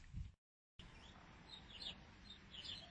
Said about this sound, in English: be welcomed by the pigeons, the meerkat and the chooks.